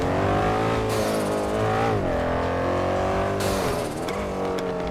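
A car engine in GTA 5 revving and roaring steadily close up, pitch rising and dipping as it shifts and accelerates, loud throughout with no talk.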